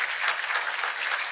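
Audience applause at a TV9 conference event, a dense wash of clapping that holds steady and fairly loud for a short burst.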